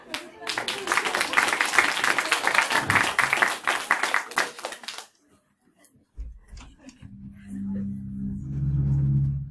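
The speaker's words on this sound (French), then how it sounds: "Sous vos applaudissements" An audience at a science theatre show in Strasbourg claps in a lively burst of many hands that fades out after about five seconds. Near silence follows, then a low musical tone comes in.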